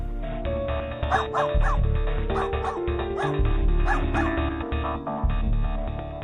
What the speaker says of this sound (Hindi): तू भौंक क्यों रही है?